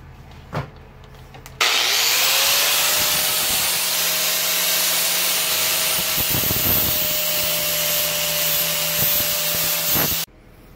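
A power sander or rotary tool shapes and removes wood from a handmade wooden spatula to correct its crooked handle, giving a loud, steady abrasive whine that runs for about nine seconds before cutting off, with no talking.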